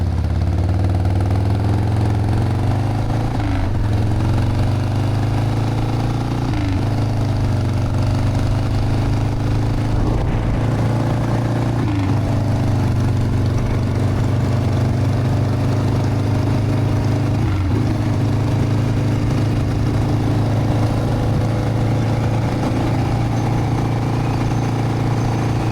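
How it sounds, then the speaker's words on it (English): A Harley-Davidson Sportster motorcycle engine runs steadily close by, a loud continuous idle with a deep pulsing rumble and a few slight throttle blips, no voices over it. "I love the sound of this bike"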